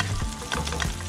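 A bluefish fillet fries loudly in a pan and spits as it is flipped onto its skin side, giving a brief burst of close crackling and stirring sounds.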